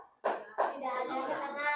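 Sharp hand claps ring out as a signal in a classroom setting, a quick pair of crisp hits, followed right away by children's voices talking softly at close range.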